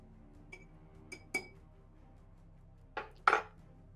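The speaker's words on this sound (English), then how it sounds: "And we're going to go ahead and stir this." Bar spoon stirring a cotton candy vodka old fashioned in a glass, heard as a few sparse clinks and taps against the glass, close and clear over a quiet background, ending with a brighter double clink.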